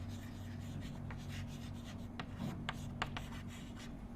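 Pen or chalk scratches steadily across a writing surface as a diagram of a metal-semiconductor contact is drawn during a lecture, a continuous rubbing stroke with a few sharper taps, no talking.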